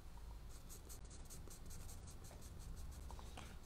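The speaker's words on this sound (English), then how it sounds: "I do it with the pencil, with the charcoal" Pencil and charcoal sketching on paper: quiet, close scratchy strokes in short repeated bursts, dry grainy rasp with brief pauses between marks, alone in a still room.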